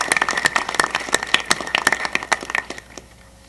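Audience applauding homeschooled students at an Alaska education bill signing, a short burst of brisk, sharp clapping from a modest crowd nearby that thins out and fades away after about three seconds.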